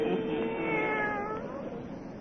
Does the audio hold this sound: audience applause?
no